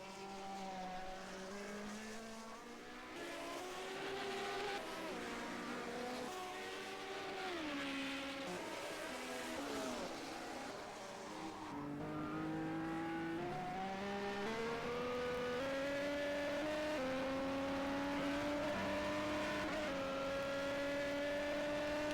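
Niki Lauda's Brabham Alfa Romeo race car in rFactor 2 at Buenos Aires, the engine wailing steadily and close with pitch rising and falling through gear changes, growing louder toward the end.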